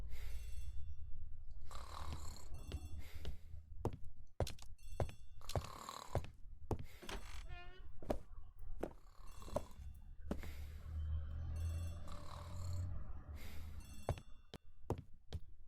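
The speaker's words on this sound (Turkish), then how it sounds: "The telephone in the hall is ringing." A telephone rings in the hall of a house in an Agatha Christie mystery game, Poirot and the ABC murders, with repeated sharp bell bursts over a low steady hum.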